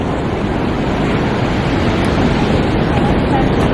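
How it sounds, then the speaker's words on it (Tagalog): Ocean waves roll onto a beach in a loud, steady wash of surf with wind buffeting the microphone throughout. "Yan, tingin-tingin sa alon."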